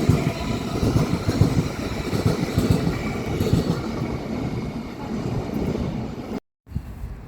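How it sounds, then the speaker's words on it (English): Great Western Railway Class 387 electric train departing a station, a steady close rumble of wheels with rhythmic clicking over rail joints and faint squeal, continuous and fairly loud before a brief cut near the end. "Now departing is a Great Western Railway service to London Paddington, which is worked by 387"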